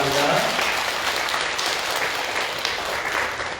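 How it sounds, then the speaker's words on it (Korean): A church congregation on Christmas Sunday applauds to welcome visiting families, a steady wash of clapping throughout, moderately distant, with a voice briefly audible at the start. "한번 우리 모든 방문하신 가족들 환영의 박수를 보여드리겠습니다"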